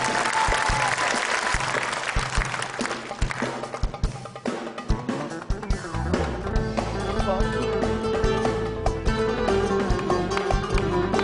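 A karaoke audience breaks into loud, sustained applause that stays dense and close from start to finish. Music begins to rise beneath the clapping partway through.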